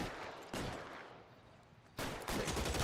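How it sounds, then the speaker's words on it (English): Gunfire in the video game L.A. Noire, two loud bursts of shots separated by a quieter stretch, sharp broadband cracks with no talk. "They opened fire first."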